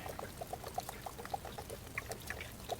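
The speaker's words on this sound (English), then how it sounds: "And we're going to let that drain." Water trickling and dripping from the low point drain of an RV during winterizing, a faint, irregular dribble of splashes with no one talking.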